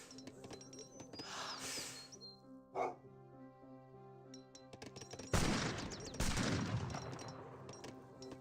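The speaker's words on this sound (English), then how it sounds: "Here's some gunfire." Bursts of gunfire, including organ guns, crackle amid game music and effects in Age of Empires 3, with a heavy volley of shots toward the end.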